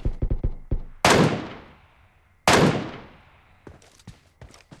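Gunfire in the mobile battle-royale game PUBG Mobile opens with a quick rapid burst of shots, then two loud, close, booming single gunshots, each trailing off in a long echoing decay, followed by a scatter of softer impacts.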